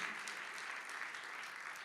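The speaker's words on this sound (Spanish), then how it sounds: "Fuerte ese aplauso de alabanza al Señor" A church congregation claps in praise to the Lord, a brief dense wash of applause captured faintly and from a distance, steady and unbroken.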